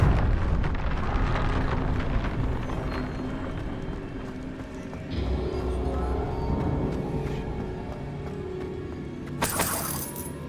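A Confringo blasting spell goes off in the Hogwarts Legacy video game, a bursting shatter and crackle over a dense game soundscape with a sharp bright crash near the end.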